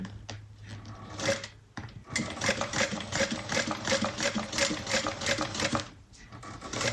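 A sewing machine runs top stitching along a bag, with a rapid mechanical chatter that starts, pauses briefly, then picks up again in steady close bursts.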